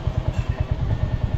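A motorcycle engine being ridden thumps in a quick, even low rhythm, loud and close, over a very short stretch.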